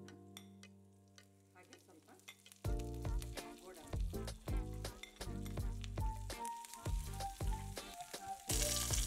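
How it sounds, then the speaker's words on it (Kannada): Dried red chillies and chana dal frying in hot oil for a tempering, a steady crackling sizzle with stirring and light clinks of a pan, close and without speech. "ಒಣಮೆಣಸಿನ್ಕಾಯಿ ಸ್ವಲ್ಪ ಕೆಂಪಿಗೆ ಚೆನ್ನಾಗಿ ಫ್ರೈ ಆಗಲಿ."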